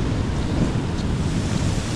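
Heavy surf roars continuously while strong typhoon wind buffets the microphone at a seaside boulevard, a dense, unbroken wash of water and gusts.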